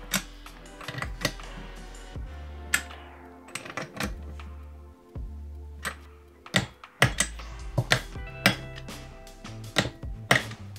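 Cylinder head screws on an engine are tightened to 10 Nm in a crisscross pattern, a quarter turn at a time. Sharp metallic clicks and ticks ring out in irregular bursts over a low hum, close and fairly clear.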